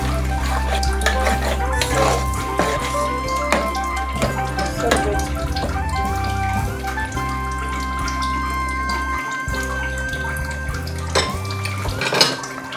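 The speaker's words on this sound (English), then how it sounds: "Then I'm going to stir this together" Crayfish being stirred into a pot of efo riro, a Nigerian vegetable soup, giving soft wet scraping and clinking of a spoon against the pot over a steady low kitchen hum, with brief louder knocks near the end.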